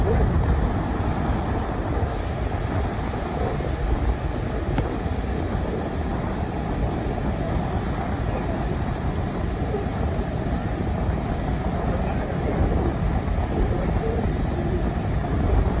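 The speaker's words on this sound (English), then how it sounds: "Windy and the waves are huge." Strong wind and huge waves on a windy day, a loud, dense, unbroken roar of surf and air that fills the whole stretch.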